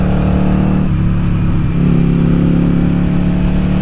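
A Yamaha XV750 Virago motorcycle engine running with a steady, loud low-pitched hum that dips briefly and then settles back, close and alone without talk.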